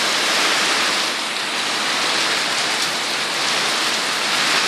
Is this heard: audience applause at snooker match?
no